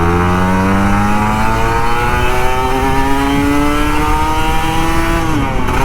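A Kawasaki Ninja RR 150 two-stroke motorcycle revs hard on a morning ride, its engine pitch climbing steadily through a long pull before dropping off, loud and close with no talk.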